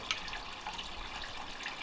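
Water keeps trickling through a garden pond's bowl filter after the pump is switched off during pond demolition, a faint continuous splashing and dripping with no talk.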